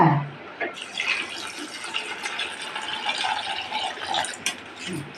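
Bottle gourd pieces being washed by hand in water with turmeric: a steady close splashing and running-water hiss begins after a brief quiet start and continues throughout, with small sloshes and rattles.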